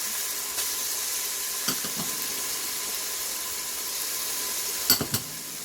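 Browned beef sizzling in an Instant Pot as pepper, garlic powder, paprika and salt go in, a steady close hiss with a few brief stirring clicks and pops.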